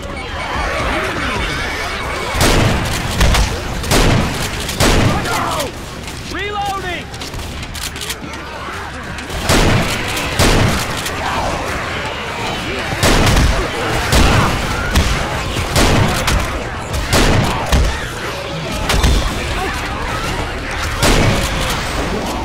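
Pipe bomb blasts and rapid gunfire in Left 4 Dead 2, with a pump-action Ithaca Model 37 shotgun: sharp repeated shots and booms punch through steadily over about twenty seconds, loud and close, with voices shouting over the chaos.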